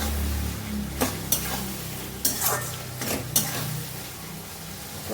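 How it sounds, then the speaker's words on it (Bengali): A spice paste is stirred and fried with parboiled potatoes in a pan, soft steady sizzling under several sharp scraping clacks of a spoon against the metal, close and fairly quiet, with no talking. "তো এই যে মশলাটাকে কষাচ্ছি, সঙ্গে আলুগুলোও আছে"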